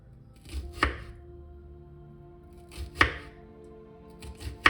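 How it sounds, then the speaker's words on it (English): A knife chops an onion on a cutting board, three sharp, close cuts spaced a couple of seconds apart against a quiet kitchen background. "I'm gonna first prep by getting this onion ready."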